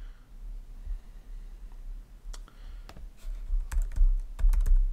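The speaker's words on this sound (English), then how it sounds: "my keystrokes can't be sonically identified as my password" Someone types on a computer keyboard, with sparse keystrokes at first, then quicker irregular clusters of close, crisp clicks alone with no talk.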